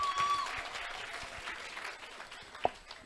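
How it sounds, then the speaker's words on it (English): Audience at a business resilience panel discussion applauds, a soft, fairly distant patter of many hands that stays steady, with a sharper single clap or knock standing out near the end. "Let's give them a round of applause for that."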